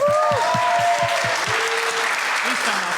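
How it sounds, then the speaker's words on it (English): An audience at a game jam final event in Funchal, Madeira, applauds a former winner, a dense, steady wash of clapping with a few voices calling out over it. "A huge round of applause to him as well"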